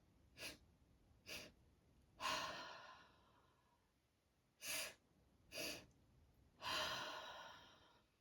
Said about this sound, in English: It's a deep inhale, pause, another sharp inhale on top of that, and then a long, slow exhale, like this.